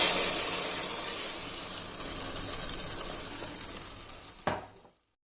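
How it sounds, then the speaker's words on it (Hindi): Milk and soaked semolina stirred into hot ghee for makhandi halwa, giving a steady close sizzle with spoon scraping throughout, a sharp clink near the end before it cuts off. "अब ये इसमें डालते जाना है और मिक्स करते जाना है।"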